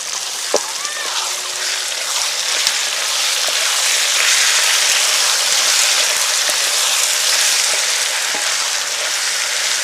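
Ginger and garlic fry in a hot pan for fish steamed in bottle gourd leaves, giving a loud, steady, dense sizzle throughout with a few faint clinks and no talk.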